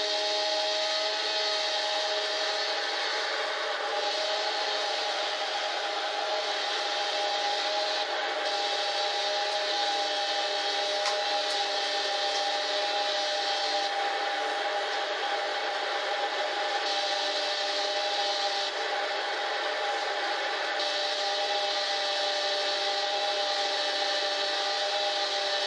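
A Lamborghini Gallardo's engine in Gran Turismo 6 holds a steady, buzzy drone under a layer of hiss, with only slight shifts in pitch throughout.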